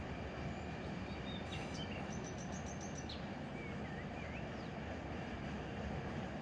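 A freight train rolls in Run 8 Train Simulator, gradually slowing against a gentle uphill grade near the Barstow hump yard. A continuous low rumble carries faint high squeals and a brief burst of rapid clicking.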